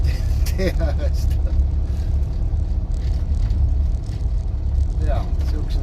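Cars on a road near the Croatian border by the Adriatic coast, a continuous heavy low engine and tyre rumble heard from close inside or beside traffic, with a person talking over it.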